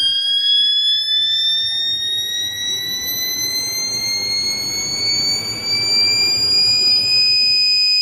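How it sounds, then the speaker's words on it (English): A loud, steady mechanical whine rises gradually in pitch as a CNC stepper motor spins up to speed, like a turbine, with a rushing hum beneath it. "listen to the motor. Look at how she starts accelerating."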